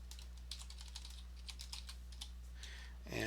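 Typing on a computer keyboard: quick, light key clicks in short bursts close by over a steady low hum, with no talking, ending in a brief louder shuffle.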